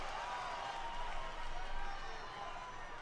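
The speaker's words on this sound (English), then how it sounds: "Crowd loves CM Punk here in Lexington" A wrestling arena crowd in Lexington, Kentucky roars and cheers for CM Punk at a live Friday night WWE SmackDown event, a dense sustained swell of noise with a commentator talking over it.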